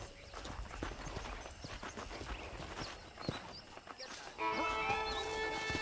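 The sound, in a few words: horses in Red Dead Redemption video game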